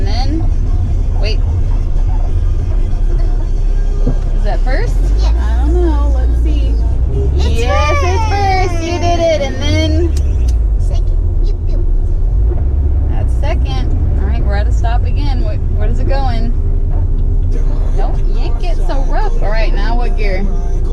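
A manual car driving on the road while a learner changes gears, with a steady low engine and road rumble throughout and an adult and a young driver talking over it.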